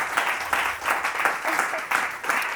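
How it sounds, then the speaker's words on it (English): Audience at a history talk clapping for a guest, a short burst of many hands in a pulsing, uneven rhythm, fairly close, with faint voices underneath. "So a big applause for Alexia Gesell"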